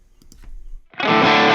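After a few faint taps, a heavily distorted electric guitar chord bursts in loud and sustained, gritty and thick, through a Fractal FM3 modeling a 1959SLP Treble Plexi Marshall amp.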